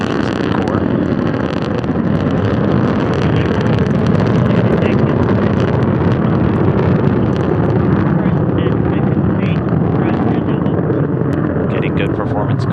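A Soyuz rocket's engines firing during launch, its four strap-on boosters and core producing a dense, steady rumbling roar that holds constant throughout, with a voice talking over it.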